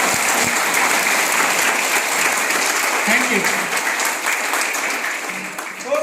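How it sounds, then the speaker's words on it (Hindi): Loud, sustained applause fills a Hindi-language AWPL product training session, steady throughout, with a brief spoken thanks near the start. "तो हो जाए एक जोरदार तालियां आपके साथ में।"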